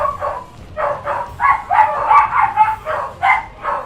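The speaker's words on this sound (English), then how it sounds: "the warhounds are barking" Warhounds bark repeatedly in a Total War strategy game, a steady run of loud, close barks and yips with dog whimpers mixed in, continuous over a low background rumble.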